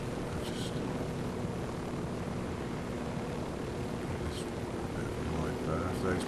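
Helicopter rotor drone from a purple special-forces chopper passing overhead in the Ghost Recon Wildlands game, a steady broadband wash with a constant hum, heard alongside talking.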